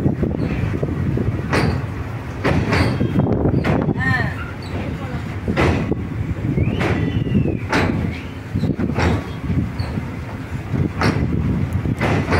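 A train rumbles across the Pamban sea bridge in India with a steady roar and regular clanking beats from the wheels; a brief bird chirp cuts through midway.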